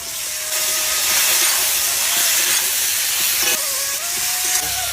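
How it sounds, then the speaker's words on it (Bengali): Brinjal (eggplant) pieces fry in a pan with a steady, loud, hissing sizzle that continues without a break throughout. "এখন বেগুন কটা দিয়ে নেবো।"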